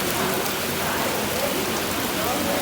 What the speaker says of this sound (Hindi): बारिश इतनी तेज़ हो रही है कि पानी जो है ना हर जगह से,